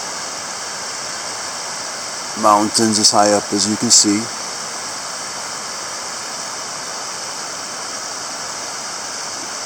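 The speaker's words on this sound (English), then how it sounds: "A river going by it." A river runs past a camp in the Swedish mountains on the Kungsleden trail, giving a steady, close rushing hiss throughout, with someone speaking briefly over it.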